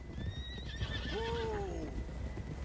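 A horse in Red Dead Redemption 2 lets out one rising-and-falling whinny midway, over a steady bed of galloping hoof clatter and outdoor ambience.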